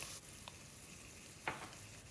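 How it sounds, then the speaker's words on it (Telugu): Ginger garlic paste fries in oil for a cluster bean curry, with a faint, soft sizzle and a couple of brief stirring scrapes. "జింజర్ గార్లిక్ పేస్ట్ ఒక స్పూను వేసి పచ్చివాసన పోయే వరకు ఫ్రై చేసుకోవాలి"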